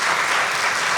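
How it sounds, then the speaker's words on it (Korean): A lecture audience breaks into loud, dense applause for the writer and psychiatrist who spoke, a brief unbroken wash of clapping with no voices. "오늘 강연을 위해서 수고해주신 김영진 작가님께 큰 박수 부탁드립니다."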